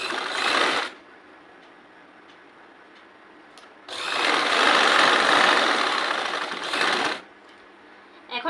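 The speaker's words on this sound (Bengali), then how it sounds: "দুই পাশেই আমরা এভাবে দম দিয়ে 6 ইঞ্চি পরিমাণ কাপড় সেলাই করে নেব" A sewing machine backstitches petticoat fabric, about six inches along each side, in two loud close bursts, a short one at the start and a longer steady run in the middle, with quiet between.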